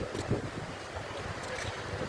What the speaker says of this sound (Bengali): জোয়ার এসি গেল, দেখ কত বড় বড় ঢেউ আসছে